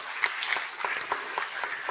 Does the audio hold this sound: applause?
yes